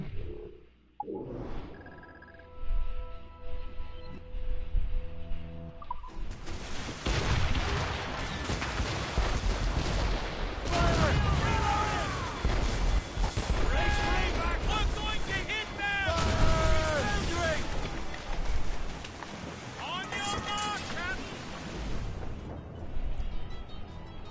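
Ship cannon volley in Assassin's Creed Rogue, rumbling broadside booms rolling together with battle noise, shouting voices and sweeping musical swells layered over the bass-heavy barrage.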